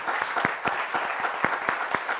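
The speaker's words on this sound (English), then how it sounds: "I invite you all to give a big round of applause." Audience applause for a panel at a talk event, a steady wash of hand claps with sharp individual claps standing out, moderately loud and close, no voices over it.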